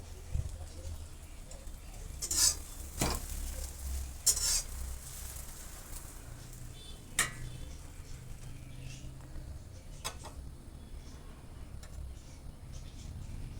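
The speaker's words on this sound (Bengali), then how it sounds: "এটা জল দিয়ে বেশ ভালো করে একটা ব্যাটার আমি এখানে বানিয়ে রেডি করে নেব" Batter of water and flour being stirred in a bowl for coating chicken burger patties, a soft intermittent scraping with a few sharper clinks, close and fairly quiet.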